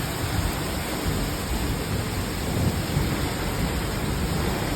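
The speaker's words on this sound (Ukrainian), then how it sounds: "Справжня літня злива," Dense, steady downpour of heavy summer thunderstorm rain with a low rumbling undertone, constant and enveloping, no voices.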